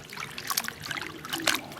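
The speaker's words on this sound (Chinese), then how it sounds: "把牛肉上的血水往出洗一下再腌。" Water trickles and splashes while raw beef is rinsed of blood in a home kitchen, short irregular splashes close by with no talk.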